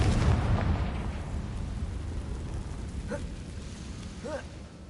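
A Confringo spell explodes in the video game Hogwarts Legacy: a heavy boom at the start fades into a long rumbling decay, with faint brief vocal sounds later on.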